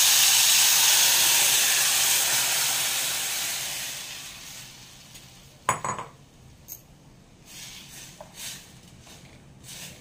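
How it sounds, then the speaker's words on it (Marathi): A steady hiss and sizzle of spice tempering crackling in hot oil fades out over several seconds, followed by a few sharp clinks and knocks of utensils against a pot. "फोडणी छान खमंग तडतडली, आता आपण घालूया"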